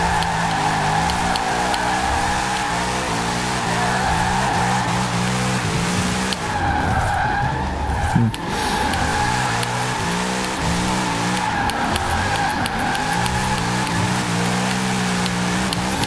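A drift car in winter Forza Horizon 4 roars with a loud, sustained engine and screeching, squealing tires sliding continuously, easing briefly midway before the revving and skidding return strongly.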